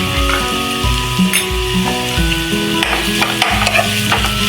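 Ginger garlic paste sizzles and fries in a pan on medium flame for a mushroom curry, with steady crackle and repeated scraping stirs, close and fairly loud, no talking.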